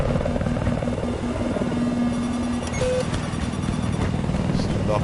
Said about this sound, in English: I see a helo